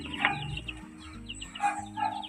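Chickens and chicks on a small backyard poultry farm cluck in short, uneven bursts, close and moderately loud, with a few sharper calls rising above a low background hum.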